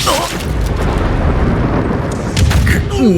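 A cannon fires in the video game Trek To Yomi, producing a loud, booming blast with a sustained rumbling roar, while a voice talks over it.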